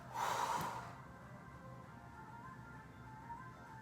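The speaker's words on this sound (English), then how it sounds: "Exhale. Let it all go." A single long exhale during a yoga stretch, a soft breathy whoosh close to the mic in the first second, followed by quiet room tone.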